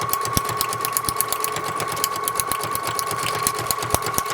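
A sewing machine stitches rapidly and continuously, a steady mechanical whirring with fast rhythmic needle clatter and occasional louder clicks, close by, with no voices.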